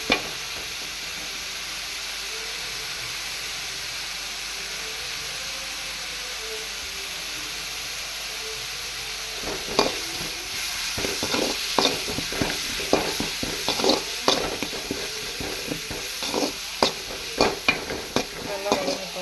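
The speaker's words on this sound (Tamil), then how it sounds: "நல்லா வதங்கட்டும்." Onions with curry leaves and turmeric fry in oil in a pan, a steady hiss that gives way halfway through to repeated close scraping stir strokes over the sizzle.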